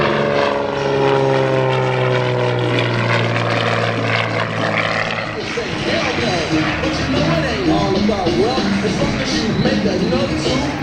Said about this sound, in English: The T-34B models with a 265 horsepower engine were produced for the Navy between